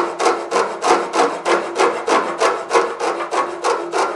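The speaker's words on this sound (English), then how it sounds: "I think the quickest thing to do is take your bastard file" A bastard file rasps across wood in steady, evenly spaced strokes, about three per second, each a loud, close, scratchy rub with a brief gap between passes and no voices.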